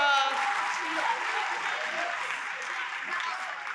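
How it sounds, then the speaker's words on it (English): An audience at a middle school spring concert applauding for the chorus, band and orchestra, steady dense clapping that slowly thins out, with a voice speaking over it. "Let's already give them a round of applause, our wonderful chorus and band and orchestra."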